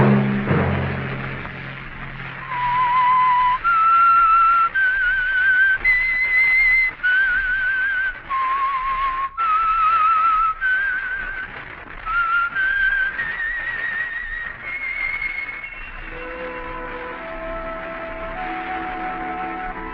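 Whistled theme tune of The Whistler radio mystery program, a lone melodic whistle rising and falling through a series of clear sustained notes, close and prominent, with a soft instrumental backing entering near the end.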